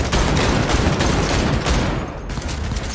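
Sustained loud automatic rifle fire in Cyberpunk 2077, a dense rapid burst of shots lasting several seconds with a brief dip near the end, close and alone.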